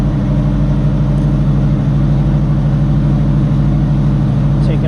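Ford Mustang Fox body engine idling steadily after a cold start, a loud, close, even rumble with a throbbing low pulse and no change in revs.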